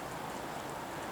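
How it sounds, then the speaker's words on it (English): Steady rain falls outdoors onto soaking wet ground and an old lawn mower, making a continuous, even hiss with no pauses. "it's only been raining now for probably, I'd say it's been raining for about 3-4 hours"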